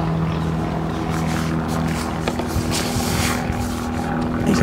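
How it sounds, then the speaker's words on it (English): An aeroplane flies overhead above a lake during carp fishing, giving a continuous broad engine drone that holds steady for nearly five seconds with no speech. "Now I've got an aeroplane coming over,"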